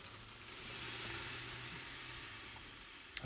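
Korean BBQ short ribs (kalbi) with a bone, marinated, searing on a Big Green Egg grill, giving a steady broadband sizzle that swells slightly and holds throughout, with no talking.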